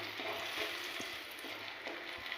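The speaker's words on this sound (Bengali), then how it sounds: "গোটা এলাচ দারুচিনি প্রায় ভাজা হয়েই গেছে, কারণ আমার কড়ার তেলটা অনেক গরম ছিল" Whole cardamom and cinnamon fry in very hot oil in a wok, giving a steady soft crackling sizzle with a few light stirring knocks, close and fairly quiet, no voices.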